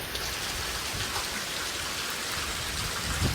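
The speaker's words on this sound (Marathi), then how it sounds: "एवढा पाऊस पडतो ना" Heavy rain pours down steadily in a hilly, fog-covered spot, a dense continuous hiss of drops striking surfaces, close and loud throughout with no talking.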